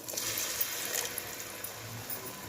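Water pours steadily into a cooking pot while Guntur-style fish curry (chepala pulusu) is being made, a continuous close splashing stream with no talk.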